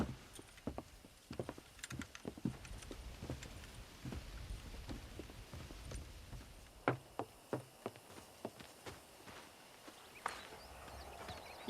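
Horse hooves clip-clop in Red Dead Redemption, a steady series of soft, moderately close thuds with irregular spacing over quiet outdoor ambience.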